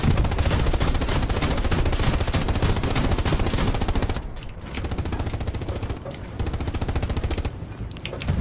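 Rapid automatic gunfire in Hell Let Loose, a World War II shooter, rattles loud and close in dense sustained bursts, broken by a few brief pauses before firing resumes.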